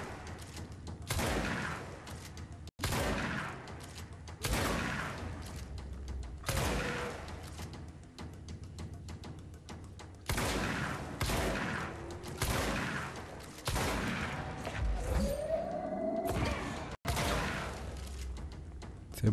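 Enemy gunfire in the video game Control, coming as a series of loud bursts with short gaps between them over a steady game background, with a few whooshes mixed in.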